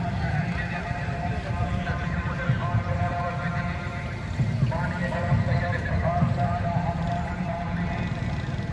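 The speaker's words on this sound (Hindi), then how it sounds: "यहाँ तो घोड़ों की रेस हो रही है।" Horses race at a neza bazi event in Chakwal, with repeated neighing and drumming hoofbeats amid a crowd and engine noise at a busy fairground, while people talk throughout.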